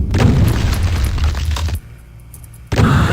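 An Arch-vile's attack explosion in the video game Doom, a loud, heavy boom with crackling burst texture that cuts out abruptly, followed by a short quiet gap and then another sharp blast.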